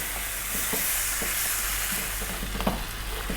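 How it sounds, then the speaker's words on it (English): Broccoli mushroom pasta with canned tomatoes sizzling steadily in a pan, with soft scraping stirs cutting through the constant frying hiss; no talking. "Now we're going to go for another 4 minutes, giving it a stir every now and then."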